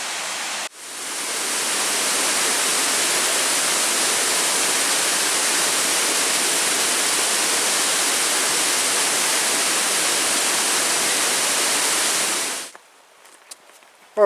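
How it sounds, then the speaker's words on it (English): Greenstone Falls in the Porcupine Mountains, Michigan, roars as a loud, steady broadband rush of falling water close by, then cuts off abruptly near the end. "Okay, we made it to Greenstone Falls."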